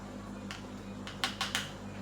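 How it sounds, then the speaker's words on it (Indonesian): A spoon stirring table salt into water, giving a few sharp, light clinks against the container in quick succession over a quiet background hum. "Kita aduk."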